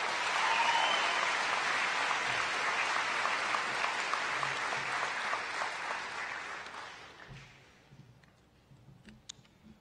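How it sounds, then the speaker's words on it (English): A crowd applauds at a school commencement ceremony, a broad sustained wash of clapping that runs for about seven seconds before thinning out and fading to near quiet. "Can we have another round of applause for both of them,"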